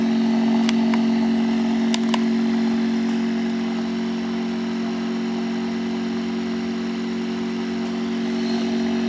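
An electric motor turns a hooked-up generator under load, giving a loud, steady mechanical hum with a strong low drone that holds unchanged throughout, broken only by a few faint clicks.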